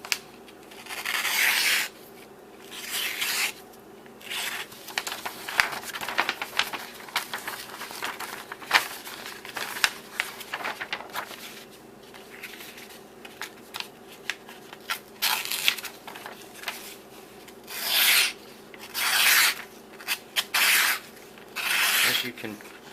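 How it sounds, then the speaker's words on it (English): Repeated rasping strokes of a Kershaw/Emerson CQC-7K folding knife's somewhat toothy blade slicing through paper, rough and scratchy, in separate bursts with pauses, someone speaking between some cuts. "So we'll go ahead and cut some paper real quick."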